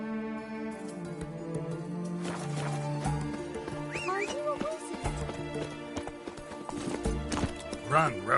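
Horse hooves clip-clop at a gallop in The Witcher 3 game, steady rhythmic beats over music with a neigh and a voice speaking.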